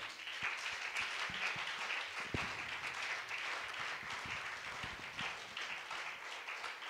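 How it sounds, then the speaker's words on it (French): A church congregation applauding together, a steady wash of many hands clapping at moderate distance, sustained throughout with a few louder individual claps standing out. "Nous pouvons acclamer les seigneurs"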